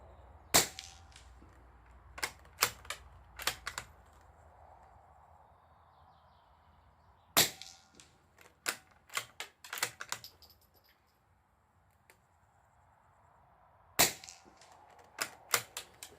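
Norinco JW15 rifle firing with a CZ magazine, sharp cracking shots in loose bursts of several, each followed by quick mechanical clicks, separated by quiet pauses outdoors.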